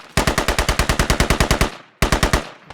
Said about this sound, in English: A couple of firefights happening down towards the south side of the slums area